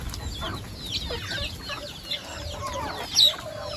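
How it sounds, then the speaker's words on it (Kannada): Grown hens gather and cluck in a farmyard at feeding time, with several soft, irregular clucks and calls close by and a brief louder squawk near the end. "ನಮ್ಮ ಕೋಳಿಗಳೆಲ್ಲ ಇಲ್ಲೇ ಇದೆಲ್ಲ"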